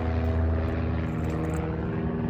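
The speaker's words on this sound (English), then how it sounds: "So hey, look, an airplane." A propeller airplane passes overhead, its engine drone steady, loud and close for the whole stretch with no pauses.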